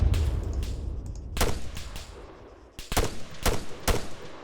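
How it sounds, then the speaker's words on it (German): Gunfire in ArmA 3 aimed at the player: sharp, loud shots crack out one by one at irregular intervals, with a cluster of close reports near the end over rumbling battlefield ambience. "Schüsse auf mich!"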